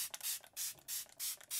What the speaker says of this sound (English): I'm going to go in with the Smashbox Photofinish Primer Water, and I spray that everywhere